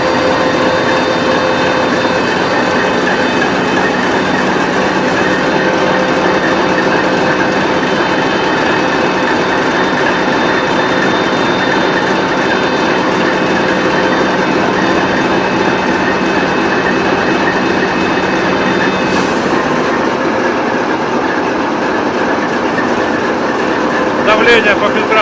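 A TEP70 diesel locomotive engine drones steadily and loudly from the cab, with a sustained high turbine whistle over it and rhythmic mechanical clatter beneath. The whistle cuts off near the end, and voices talk in the cab.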